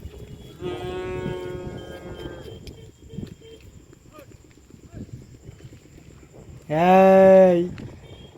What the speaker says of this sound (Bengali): বড় বড় গরু খুব সুন্দর শরীর স্বাস্থ্য